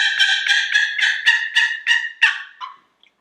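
A slate pot turkey call is worked to produce a series of about nine sharp, close, rhythmic turkey chirps and yelps in quick succession, fading with a short final note.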